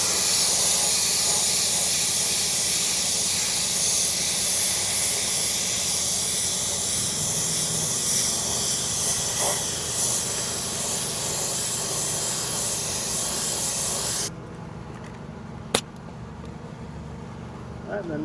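Spray gun hisses steadily as medium silver paint goes onto a BMW X5 wheel during curb rash repair, a loud continuous spray that stops abruptly near the end, followed by a sharp click.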